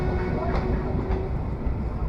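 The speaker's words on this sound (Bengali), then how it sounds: "আমাদের মধুমতি এক্সপ্রেস ট্রেন ইতিমধ্যে ফরিদপুর রেলওয়ে স্টেশনে এসে পৌঁছালো" The Madhumati Express arriving at Faridpur railway station in Bangladesh, a loud, dense rumble of train carriages with a brief tonal squeal and steady rolling noise throughout.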